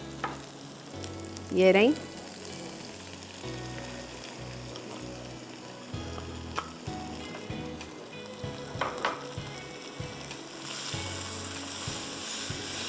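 Sauces for Schezwan chowmein sizzling in a hot wok, a steady close frying crackle with a few stirring scrapes, and a brief spoken remark near the start.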